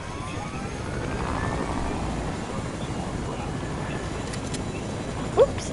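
Helicopter in the video game Fortnite, a steady rotor drone holding at even loudness throughout, with a brief sharp blip near the end.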